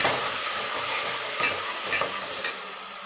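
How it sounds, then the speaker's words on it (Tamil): Onions and ground tomatoes being stirred in a hot pan, a steady close sizzle with a few soft scraping strokes of the spoon at a regular pace. "இதை ஊற்றிக்கலாம். நல்லா கிண்டி விட்டுக்கலாம்."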